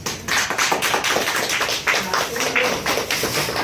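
An audience bursts into steady applause at a talk about woodworking workshops, a dense run of many hands clapping close by, continuous and lively for the whole stretch.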